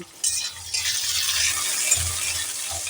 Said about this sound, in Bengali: পেঁয়াজটা দিয়ে এবার সুন্দর করে একটু নাড়াচাড়া করব